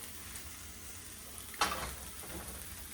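Tofu and vegetables fry in a pan with a faint, steady sizzle and one brief louder burst partway through, probably a piece being turned, heard close but quiet.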